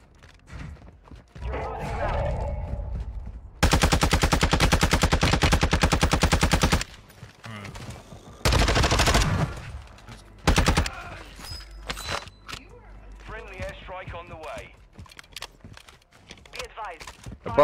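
Gunfire at enemies in a shooter game: long, loud bursts of rapid automatic fire alternate with shorter volleys and single shots, and voices talk between the bursts.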